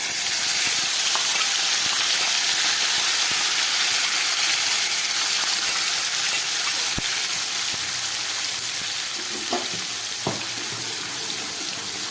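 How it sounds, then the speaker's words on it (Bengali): Tomato and ginger paste hits hot oil for a vegetarian potato curry, producing a loud, steady sizzling hiss that carries on throughout and eases slightly toward the end, with a few light clinks and no talking. "এই তেলের মধ্যে আমি এই টমেটো আর আদার পেস্টটা দিয়ে দিচ্ছি।"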